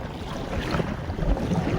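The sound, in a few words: sea waves breaking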